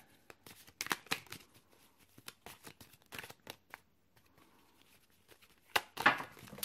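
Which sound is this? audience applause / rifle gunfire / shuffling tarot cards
shuffling tarot cards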